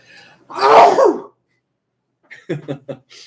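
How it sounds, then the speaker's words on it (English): A single loud, close sneeze bursts out, followed after a pause by a few quick, softer sniffs or huffs. "I'm going to sneeze, y'all."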